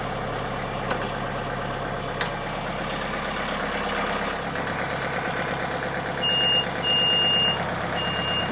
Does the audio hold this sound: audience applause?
no